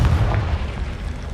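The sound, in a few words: Confringo blasting spell explosion, from video game Hogwarts Legacy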